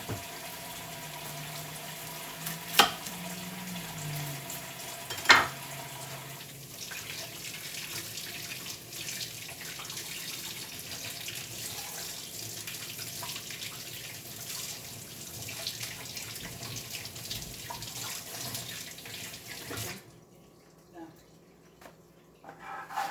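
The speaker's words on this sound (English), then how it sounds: "I washed my onion earlier, so I'm going to rinse it again." Tap water runs steadily into a kitchen sink as an onion is rinsed, with a continuous hiss and splash for about twenty seconds, a couple of sharp clinks early on, and quiet after it shuts off.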